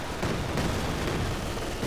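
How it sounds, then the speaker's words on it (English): Mortar fire in Company of Heroes 2 comes as a dense, rumbling barrage of dull thuds and blasts, loud and continuous over about two seconds, with no voice. "Mortar fire here."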